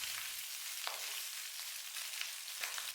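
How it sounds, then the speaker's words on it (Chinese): Eggs and wood ear mushrooms stir-fried in a wok over high heat give a loud, continuous sizzle with brief scraping stirs, close and steady without any voices. "接下来把炒好的鸡蛋木耳再次回锅，开大火快速翻炒均匀。"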